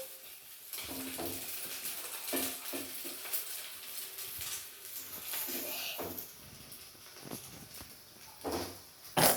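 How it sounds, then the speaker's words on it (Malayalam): Crispy potato balls fry in hot oil over a gas flame, giving a steady sizzle with spoon stirring and scraping clatter mixed in throughout. "ഇതിപ്പോൾ നല്ലപോലെ ഒന്ന് കുറച്ച് ഫ്രൈ ചെയ്ത് വരുന്നുണ്ട്"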